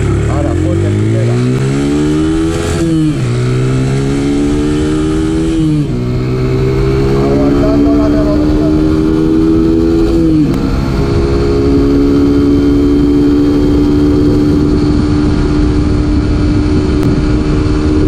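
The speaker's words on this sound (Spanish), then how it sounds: "Vamos a hacer aquí la prueba de aceleración saliendo desde parado." A small Chinese 125cc motorcycle engine revs up from a stop, climbing through several gears with rising whine and brief dips at each shift, close and loud.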